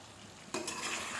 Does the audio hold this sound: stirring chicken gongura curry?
yes